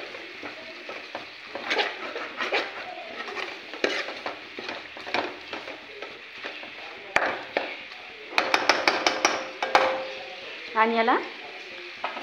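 Prawns sizzle and fry in a pan for a spicy village-style prawn dish, with repeated scraping stir strokes and clinking utensil taps close by, and a brief spoken remark partway through.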